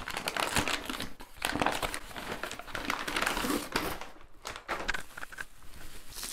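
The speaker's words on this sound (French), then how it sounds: "on va déballer tout ça" Packaging for a Beltbox singing mute being unwrapped, with steady close crinkling and rustling of wrapping and cardboard throughout, broken by brief handling pauses.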